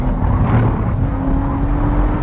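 A Porsche 992 GT3 RS or Maserati MC20 race car accelerates on a track, giving a loud, steady engine drone with a sustained tonal hum. The sound sits close and continuous, with no voices over it.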